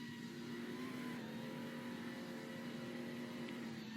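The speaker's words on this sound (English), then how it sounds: "So pretty nice sounding aircraft, actually." A steady aircraft engine drone in a Roblox flight game hums at an even pitch, a constant mechanical tone with a broad noisy rush behind it.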